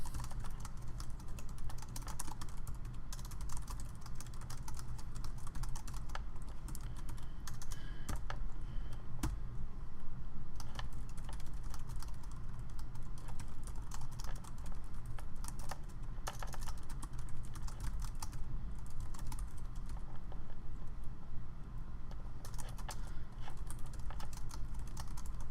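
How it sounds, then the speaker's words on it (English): Steady run of computer keyboard typing as text is entered, continuous clustered key clicks close up over a low background hum, with no talking. "bear with me here as I type something out"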